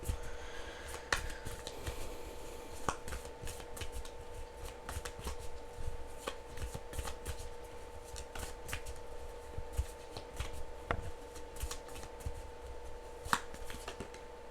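Tarot cards are shuffled by hand in a quiet room, making a run of soft, close riffling and tapping sounds at an irregular rhythm under a faint steady hum, with no talking.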